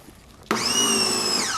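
Hart 1700psi 1.2gpm electric pressure washer switches on abruptly after a quiet moment, its motor jumping straight to a loud, steady whine with bright tonal harmonics that holds nearby.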